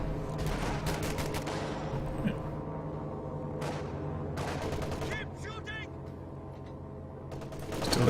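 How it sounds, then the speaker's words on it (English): Machine gun fire in a Company of Heroes 2 battle, several quick rattling bursts of automatic fire at mid distance with gaps between them, mixed with battlefield rumble and someone speaking over it. "Axis continue to expand, covered by their vast quantity of machine guns"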